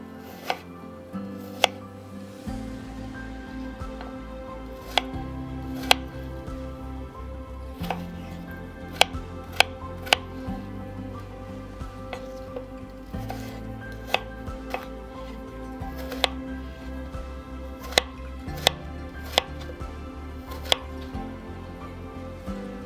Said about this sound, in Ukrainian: я нарізаю яблука на дрібні кубики, приблизно розміром 1 на 1 см.